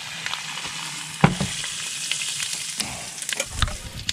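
Hot butter sizzling in a cast-iron Dutch oven at an outdoor cooking spot, a steady bright crackling hiss with a few sharp pops and stirring scrapes, close and alone.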